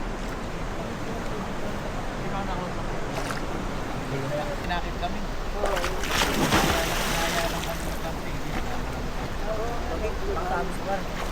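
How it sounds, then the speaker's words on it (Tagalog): A riverside campsite with mountain runoff: continuous rushing river water flows loudly throughout, with a brief louder splash in the middle and a voice speaking faintly over it. "Agos ng tubig."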